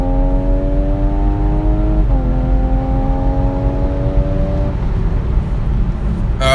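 A car engine drones loudly, its pitch dropping and steadying as gears shift down, a sustained growl close by with no talking.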